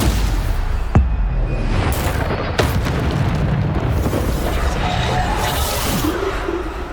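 Booming spell blasts from the Bombarda charm in Hogwarts Legacy go off in steady succession, loud, dense, rumbling explosions that layer into a continuous roar with sharp pops and whooshes.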